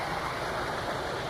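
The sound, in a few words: waterfall flowing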